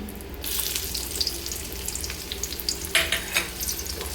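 Chopped onion frying with black cumin in oil, a continuous close sizzle with a few brief stirring scrapes and clinks, no talking.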